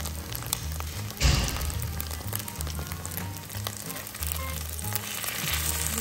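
Somen noodle pancake fries in a pan over fairly high heat, giving a steady close sizzle and crackle with a brief louder burst and a low background hum throughout.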